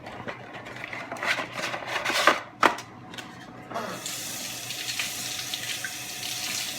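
Tap water runs into a sink to wet lasagna noodles, a steady close splashing stream with some clattering handling sounds before the flow settles into a continuous even hiss.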